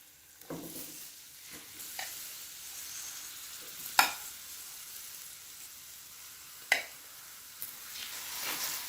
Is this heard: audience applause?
no